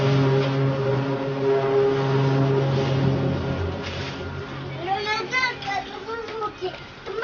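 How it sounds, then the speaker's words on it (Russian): Motorcycle engines in Ukraine hum steadily with tonal droning while children play and talk nearby; engine pitch swells and revs toward the end. "Звуки. Мотоциклы."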